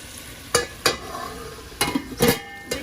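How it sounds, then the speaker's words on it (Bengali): Spice masala stir-fried in oil for chicken curry: a soft background sizzle broken by several sharp scraping strokes of a spoon against the pot, irregularly spaced and loud, with no talking. "এখন ভালো করে মশলারে কষাই নেব"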